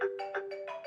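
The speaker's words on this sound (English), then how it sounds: "Here you can tweak the ringtone volume and system sounds using the slider." An iPhone ringtone plays quietly on its own, a bright electronic melody of short repeated tonal notes in a steady pattern, fairly faint and close.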